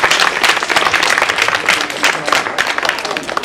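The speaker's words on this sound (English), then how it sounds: "Give him a big round of applause." A crowd applauds at a children's awards ceremony, steady dense clapping that fills the whole stretch without a break.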